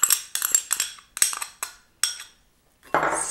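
A utensil scrapes and clinks against a mixing bowl as canola oil is stirred into batter. The strokes come as a quick series of bursts, a short pause, then a final longer scrape.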